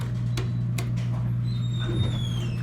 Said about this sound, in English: The door closed but works only after a few seconds.